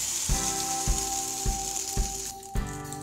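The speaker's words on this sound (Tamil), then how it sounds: "இப்போ வந்து பீட் பண்ணி வச்சுருக்கிற எக்கு வந்து இதில் போட்டுக்கலாம்." Beaten egg is poured into hot oil for a crispy karanti omelette, giving a steady loud sizzle and crackle with repeated soft thuds in a regular rhythm, no voices.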